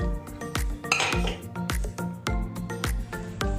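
Steel vessels and utensils clink and clatter repeatedly while freshly cooked bean juice is transferred into a pot to cool in a home kitchen, with bright ringing metallic taps at close range.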